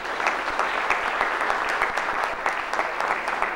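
Audience applause for the Dominican Republic consul in New York at a tourism talk about Puerto Plata, a steady dense clapping from a crowd lasting throughout, fairly loud and close with no talking over it.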